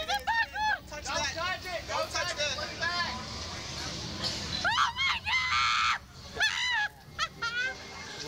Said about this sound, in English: Quit screaming.